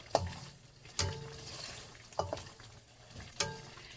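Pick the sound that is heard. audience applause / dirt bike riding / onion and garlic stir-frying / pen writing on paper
onion and garlic stir-frying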